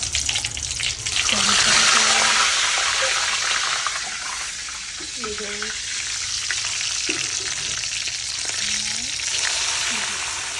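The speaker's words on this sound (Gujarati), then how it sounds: "વઘારની તૈયાર થઈ ગઈ છે નાખીશું આપણે સૌથી પહેલાં જીરું જીરું હિંગ મરચાં" Cumin, asafoetida and chillies hit hot tempering oil in a pan with a loud, continuous sizzle that flares near the start and then settles, with a few brief utensil knocks and stirring sounds on top.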